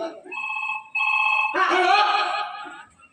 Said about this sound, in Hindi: अभी लगाता हूँ तेरा पास।